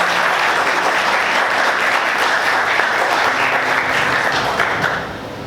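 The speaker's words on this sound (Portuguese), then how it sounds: "Você pode aplaudir Jesus bem forte" A church congregation claps loudly and continuously, a dense wash of applause that holds for about five seconds before tapering off.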